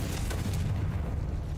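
A Confringo spell detonating in a wizard video game, a short close boom with a dense low rumble that swells and fades within a second and a half.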